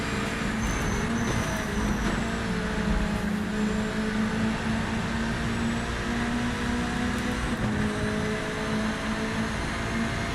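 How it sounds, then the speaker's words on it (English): Racing car engine in Project Motor Racing, a loud, steady drone with a brief dip in pitch from a downshift before climbing again while shifting back up to fifth gear. "Little downshift and back up to 5th."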